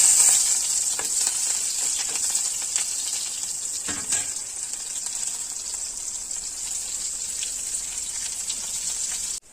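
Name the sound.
onions frying in a hot kadai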